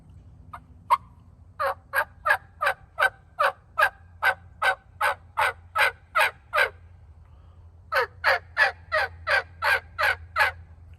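A beginner's first plain yelp on a turkey call: two quick test notes, then a long run of evenly spaced, raspy yelps, a short pause and a second steady series, close and clear with no talking.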